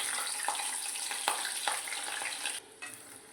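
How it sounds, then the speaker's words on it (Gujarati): Paneer cubes fry in hot oil over a low gas flame, giving a steady close sizzle broken by a few sharp stirring clicks before it drops quieter near the end. "જો હવે પનીર તળી લઈએ."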